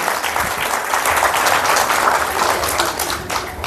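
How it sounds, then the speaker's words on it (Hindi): An audience claps loudly to open a business programme, giving a sustained burst of dense, vigorous applause that fades slightly at the end. "ये सारी चीजें मंजूर है तो आपकी जोरदार तालियों के साथ शुरुआत करते हैं प्रोग्राम की"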